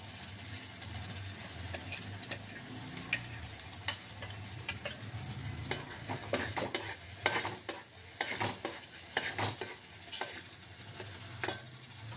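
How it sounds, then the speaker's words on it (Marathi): Onion and ground spice paste for a clam curry sautéed in a pan, with steady sizzling and repeated scraping strokes of a spatula against the metal, fairly close and moderately quiet, with no talking. "चांगलं परतून घेऊया."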